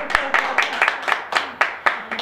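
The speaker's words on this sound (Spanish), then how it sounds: "Aplausos" Applause at a Spanish-language cultural event, heard as a few distinct, evenly spaced claps, close and fairly loud, with a faint voice beneath them.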